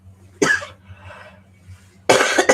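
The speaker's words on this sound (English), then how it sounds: "What the hell is this coughing crap?" A person coughs nearby in a quiet room: one short cough, a pause, then a harsher double cough near the end.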